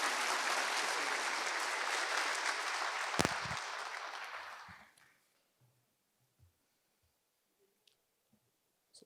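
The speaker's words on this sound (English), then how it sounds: "Let's give Matt Eddy a huge round of applause." A town hall audience in Southern Illinois, gathered for a gun control meeting, applauds loudly and steadily for about five seconds, then the clapping fades out into near silence with a few faint clicks.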